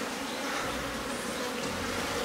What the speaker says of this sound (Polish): mamy pszczoły, całą rodzinę.